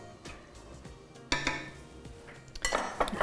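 A utensil scrapes and clinks against a pot while gluten-free pasta and salt are stirred, with a few sharper metallic knocks and quicker rattling toward the end.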